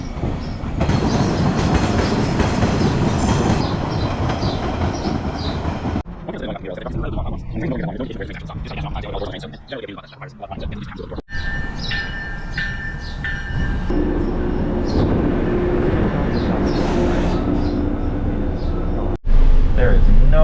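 A commuter rail train rumbles steadily along the rails with rhythmic clatter and occasional squeals, loud and close, heard riding on board, with a brief quieter stretch midway.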